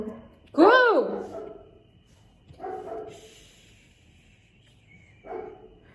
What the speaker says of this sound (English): excuse my little dog.